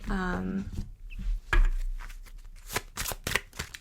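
A short voice is followed by rapid papery riffling and soft slapping, a deck of tarot cards being shuffled close up in a few quick bursts.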